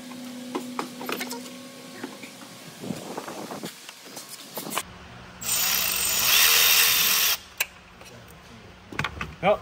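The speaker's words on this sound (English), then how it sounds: "you gotta remember to put your tool on tighten before you go ahead and try to do this on camera" A power tool tightens coolant hose clamps on a Ford 6.7 diesel engine, a loud close whir lasting about two seconds amid clinks and handling clatter.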